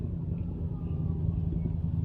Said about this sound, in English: like the neighbor was leaving on a big motorcycle there.